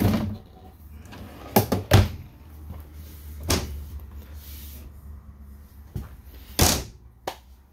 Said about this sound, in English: big heavy duty drawers for pots and pans with 50-pound ball bearing drawer